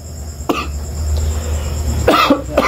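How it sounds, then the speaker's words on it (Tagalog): A person close by coughs twice, a short sharp cough followed by a longer, harsher one, over a low steady background hum. "Ubo na ako."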